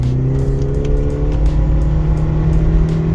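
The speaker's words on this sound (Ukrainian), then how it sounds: "Зараз ми спробуємо вирушити з місця." A 2011 Subaru Outback 2.5 with an automatic gearbox pulls away from a standstill, its engine hum steady and close with a low drone rising gently as it gathers speed, no talk over it.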